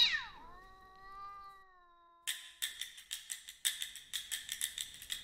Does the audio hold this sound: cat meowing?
yes